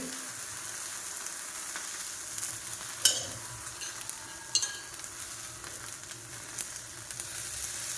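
Thalipeeth flatbread made from leftover rice sizzles steadily in an oiled pan, a continuous hissing fry with a couple of brief louder crackles as it is flipped, no voices.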